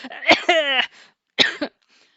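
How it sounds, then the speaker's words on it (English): A few harsh coughs close to the mic, a burst then a second shorter one after a pause, with no talking. "Take my coughs."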